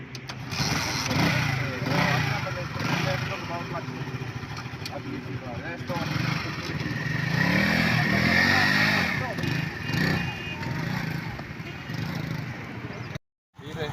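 A motorcycle engine chugs and revs unevenly during a riding lesson, the throttle rising and falling over a steady running drone, with people talking over it throughout.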